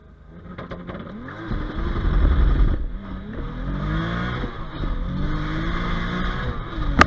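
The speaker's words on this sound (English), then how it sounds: "did a short little burnout." A turbocharged Lexus IS300 with a six-speed and over 500 wheel horsepower does a short burnout in second gear, its engine revving loudly and steadily with rising and falling pitch sweeps for several seconds, close by.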